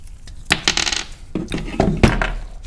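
Metal clinks and taps from tools working on a steel brake line while installing a Wilwood brake proportioning valve on a Dodge Viper, a few sharp, close knocks and scrapes at an uneven pace.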